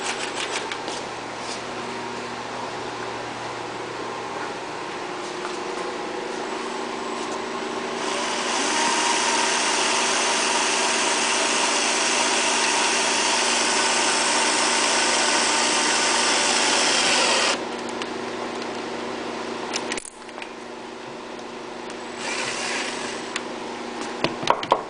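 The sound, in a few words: drilling a hole in a cast aluminum valve cover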